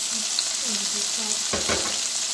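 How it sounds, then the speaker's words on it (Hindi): Tomatoes fry in a pan with a constant close hiss of sizzling oil, broken near the end by the scrape and clatter of stirring. "टमाटर को हम अच्छी तरह भून लेंगे।"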